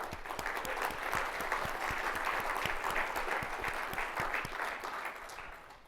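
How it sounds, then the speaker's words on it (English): Sustained audience applause at a summit session, dense and steady clapping from a crowd holding for several seconds before tapering slightly at the end. "So big round of applause to those folks who are already doing the work."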